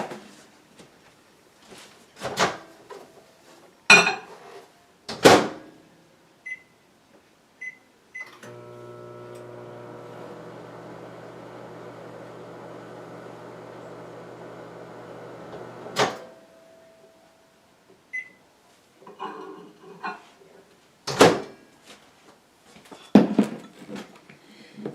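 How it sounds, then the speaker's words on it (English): A microwave oven hums steadily for several seconds while reheating soap base, ending in a beep, with clattering handling noises and a few quick beeps before and after. "you can stick it back in the microwave just for a few seconds"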